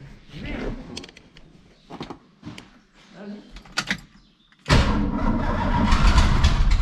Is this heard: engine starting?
yes